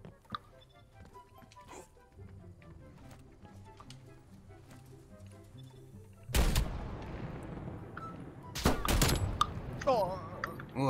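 Gunfire in the video game Call of Duty Black Ops Cold War, loud bursts of rapid shots breaking out partway through over quieter game sounds and background music, with a second sharp burst shortly after.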